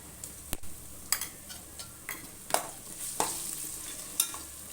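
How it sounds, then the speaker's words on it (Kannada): Ginger garlic paste hits a pan of frying onions for a chicken biryani, giving a steady low sizzle broken by sharp scrapes and clicks of a spoon stirring, close up and without speech. "ಈ ಟೈಮಲ್ಲಿ ನಾನು ಶುಂಠಿ ಬೆಳ್ಳುಳ್ಳಿ ಪೇಸ್ಟ್ ಸೇರಿಸ್ತೀನಿ"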